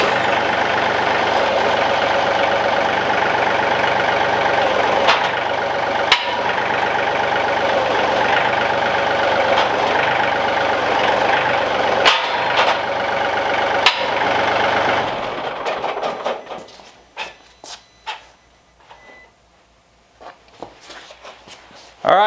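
A John Deere 2038R compact tractor runs steadily nearby while its hydraulics, including the third function, are cycled, holding a continuous engine drone for about fifteen seconds before shutting down into quiet, scattered handling noises.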